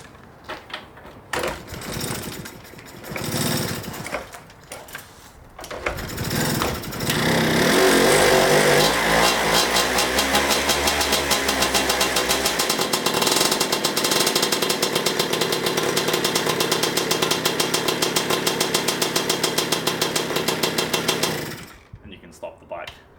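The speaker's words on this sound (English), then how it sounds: "Hear the engine turning over" A modified 1981 Piaggio Ciao moped engine with a variator swap and upgraded cylinder sputters and turns over, then catches into a loud, fast rattling drone that runs steadily before cutting off abruptly; brief talking precedes it.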